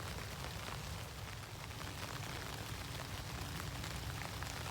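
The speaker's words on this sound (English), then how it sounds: "You can hear the rain's back again" Steady rain patters on a tarp in a forest, a dense, even wash of drops close overhead with no talking.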